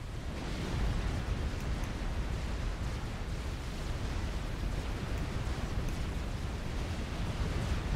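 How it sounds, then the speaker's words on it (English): Continuous heavy battleship barrage pounding a commander in Supreme Commander, a dense roaring wash of explosions with no distinct gaps, loud and sustained throughout. "he's taking some battleship fire to the back of his head"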